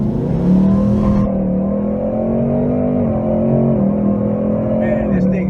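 Supercharged 2019 Ford Mustang GT pulling hard under acceleration on a street drive, a loud steady engine drone rising and shifting in pitch close by, with people talking over it.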